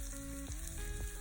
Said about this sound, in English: I heard a little sizzle.